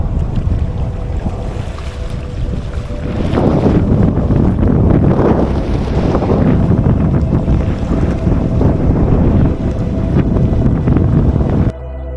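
Strong wind gusts over a river and buffets the microphone in loud, continuous roaring bursts, with water and boat noise mixed beneath, ending abruptly.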